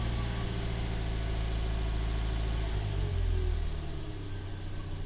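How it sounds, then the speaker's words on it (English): Toyota 1ZZ engine fitted with a replacement throttle body idles steadily, then a quick throttle blip raises the revs briefly before the engine settles back to idle. "So I just blip it real quick."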